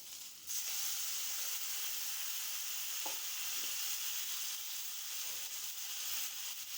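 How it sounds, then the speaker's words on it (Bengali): Okra sizzles quietly in a pan with ginger, poppy seed and cashew paste and a little water, a soft continuous frying hiss with a couple of faint stirring taps. "সেই পেস্টটা দিয়ে অল্প একটু জল দিয়ে খুব ভালোভাবে ঢ্যাঁড়সটার সঙ্গে"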